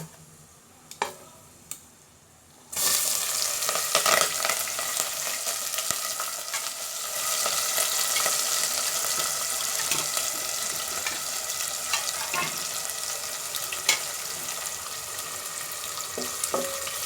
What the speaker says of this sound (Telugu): కొద్దిగా కొంచెం వేగేయాలి, ఎక్కువ వేగకూడదు.